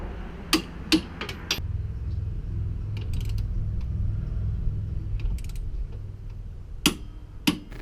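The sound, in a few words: torque wrench tightening tow base plate bolts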